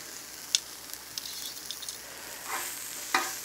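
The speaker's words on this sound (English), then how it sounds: "on the grill, and you can hear that sizzle. We've got a hot grill." Thinly cut vegetables, seasoned with salt, pepper and oil, sizzle softly on a hot grill, a steady hiss punctuated by a few sharp clicks from tongs.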